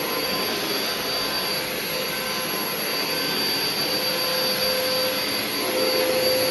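A vacuum cleaner with a worn brush roll runs over thick carpet, a loud steady motor whine with high tones that drones on unbroken, its pitch lifting slightly near the end.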